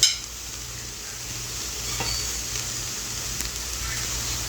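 Chicken stirred and fried together with rice in a pot for biryani, a low continuous sizzle with a few light scrapes and clinks, heard alone without voices.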